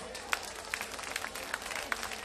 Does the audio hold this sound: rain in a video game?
no